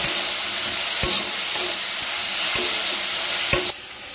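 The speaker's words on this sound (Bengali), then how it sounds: "গ্যাসের ফ্লেমটা মিডিয়ামে দিয়ে এই বেগুনের টুকরোগুলো বেশ ভালো করে কিন্তু ভেজে নেব" Brinjal pieces with turmeric frying in oil in a pan over a medium flame, a loud steady sizzle with sharp spatula taps and scrapes at intervals, up close with no talk.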